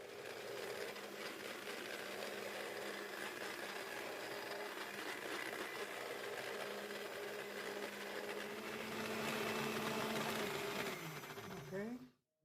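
A blender runs on high, whirring steadily as it purées a tomato mixture, loud and continuous for about twelve seconds before cutting off abruptly, with the motor pitch swelling slightly near the end.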